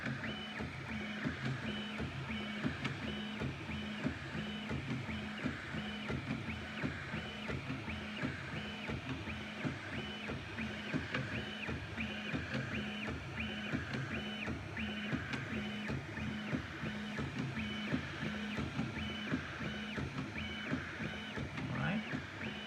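A Prusa 3D printer with a Bear frame upgrade and dual Y steppers runs fast at about 500 mm/s, giving a steady, loud pulsing whir of stepper motors. Rapid rhythmic tonal buzzing continues throughout with no pauses.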